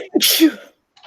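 One loud, close sneeze, with a short intake of breath and then a sharp burst.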